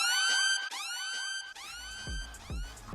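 A synthetic Kill Bill-style siren riser effect sweeps upward in repeated rising whoops, layered over a deep thumping bass toward the end, in a hard trap music production.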